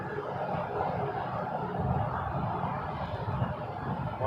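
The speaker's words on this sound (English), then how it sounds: "Off to Punta Cana, 737 MAX 8 flight." A Boeing 737 MAX 8 airliner at Toronto Pearson Airport, heard as a steady, continuous jet engine roar at moderate distance, holding an even level throughout without voices.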